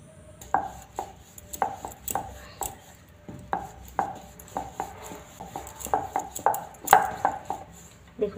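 Masala paratha dough is rolled out with a rolling pin on a board, a close series of light, irregular wooden taps and knocks repeating every half second or so, alone without any voices.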